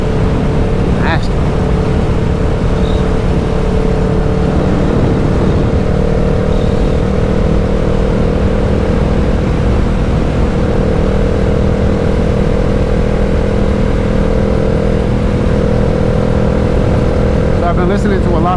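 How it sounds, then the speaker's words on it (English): Steady engine hum from a vehicle ride on an early morning trip, a continuous low drone holding at a constant level throughout, with a person talking over it. "I really just love like the hum of the engine."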